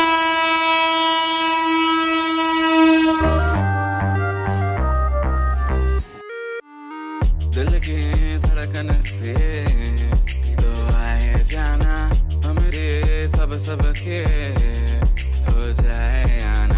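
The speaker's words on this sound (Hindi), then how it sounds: "अभी यहाँ पे ट्रेन आ रहा है इधर से।" A train passes a railway level crossing in India, opening with a long, loud horn blast and then a rhythmic run of heavy wheel clatter that continues strongly to the end.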